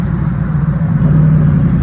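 Supercar engines idle and rumble steadily at close range at a cars and coffee meet on Kent Island, a continuous loud low drone with no speech.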